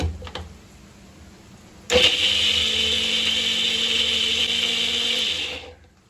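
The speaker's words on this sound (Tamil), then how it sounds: "இன்னும் கொஞ்சம் நல்லா பிளெண்ட் பண்ணிக்கலாம்." A blender purees tomatoes, starting abruptly after a short quiet lead-in and running with a loud, steady whirring hum for several seconds before winding down.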